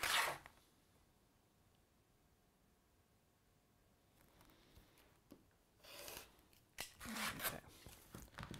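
Scissors cut through fabric for quilt pieces, a few crisp snipping and rustling bursts at the start and again near the end, separated by quiet handling.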